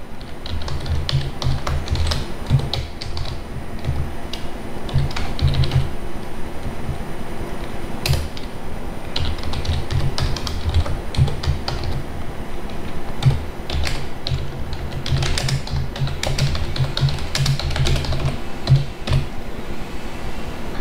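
Continuous clicky tapping on a computer keyboard as code is typed into Notepad, a rapid irregular patter of keystrokes that is close and clear, with no talking.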